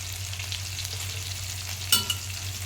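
Spiced food cooking in a pan with ginger-garlic paste gives a low, steady frying hiss beneath a constant hum, and a short clatter comes near the end.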